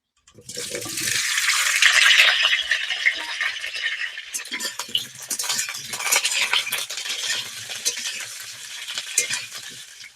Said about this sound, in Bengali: তেল গরম হয়ে গেছে আলুগুলো দিয়ে দেব